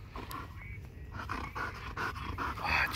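A gun dog pants steadily during yard retrieve training outdoors, rapid breathy puffs repeating close by over a faint ambient background, with no voices.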